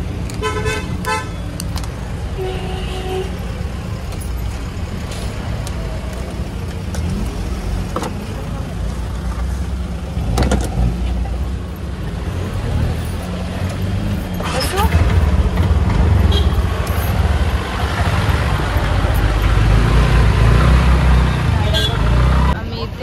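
Road traffic in Manali with passing cars and motorcycles, engines rumbling nearby while several short horn toots sound, with people talking over the noise and the traffic swelling louder near the end.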